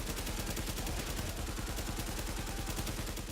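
Rapid rifle gunfire from an M14 or M1A with heavy recoil in The Division, a dense unbroken rattle of shots at close range filling the whole moment, with no talk over it.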